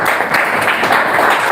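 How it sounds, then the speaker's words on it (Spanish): Church congregation at a worship service breaking into loud, steady applause, a dense wash of many hands clapping together close by with no talk over it. "Dele un fuerte aplauso al Señor"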